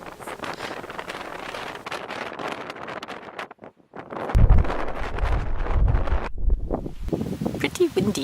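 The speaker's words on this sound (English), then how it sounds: "Pretty windy here, isn't it?" Strong gusting wind buffets the microphone at the Cliffs of Moher on Ireland's coast, roaring in uneven surges with a brief lull partway through, while people talk underneath.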